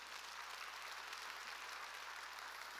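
A church congregation claps during a sermon, a faint, even, continuous wash of many hands heard from a distance.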